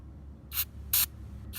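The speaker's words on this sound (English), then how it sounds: "I just spray a little bit on the inside" Three short bursts of brake cleaner aerosol spray hiss close by, evenly spaced, with quiet background between them, spraying inside a rifle muzzle device.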